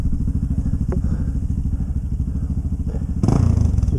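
Dirt motorcycle such as a CRF450RL, 800GS or DR650 riding down a forest road, its engine a steady close, loud chugging throb throughout, with a brief clack near the start and the revs rising in the last moment.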